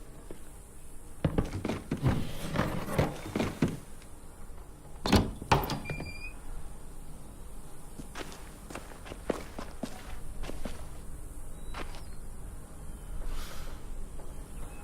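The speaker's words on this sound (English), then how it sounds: "I'll get the door open." A door is pushed open in a zombie survival video game, amid scuffling footsteps, clunks and mechanical scraping over roughly fifteen seconds, with faint background ambience.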